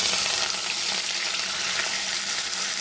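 Spring onions and ridge gourd fry in a hot pan with a steady, loud, continuous sizzle that fills the whole stretch, with no talking over it.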